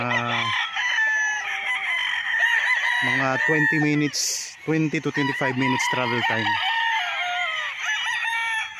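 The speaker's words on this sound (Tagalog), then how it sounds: "ang ingay ng mga manok" Someone speaks over a loud, steady din of clucking chickens, with roosters crowing now and then in the background, on a farm lot in Liliw, Laguna, Philippines.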